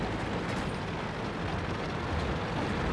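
An enemy tank blowing apart in World of Tanks, heard as a steady, heavy rumbling roar with a dense low-end boom that holds at full loudness through the whole stretch, with no talking over it.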